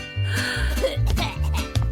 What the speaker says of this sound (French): Elle tousse